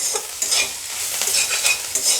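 Chechi greens frying in a pan are stirred, giving a steady soft sizzle with repeated scraping and rustling strokes at close range and no voices.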